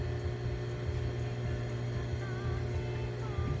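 A new sewing machine runs steadily, stitching a small beret band for a doll, with a continuous close motor hum and faint mechanical whine and no pauses.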